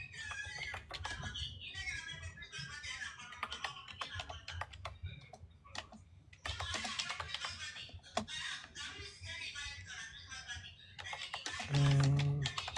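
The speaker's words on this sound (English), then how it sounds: "Sorry, I'm typing." Computer keyboard typing, a steady patter of quick key clicks under ongoing conversation, with a brief louder tonal sound near the end.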